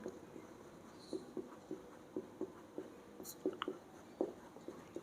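A pen scratches across paper during an accounting lesson, making short, quiet strokes in an uneven rhythm close by.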